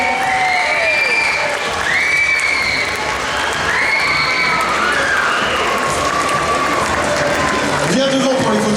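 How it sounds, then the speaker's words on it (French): A loud audience at an awards ceremony applauds in a dense, continuous wash, mixed with cheering and high shouts that sound like children's voices rising over the clapping. "Vous pouvez l'applaudir"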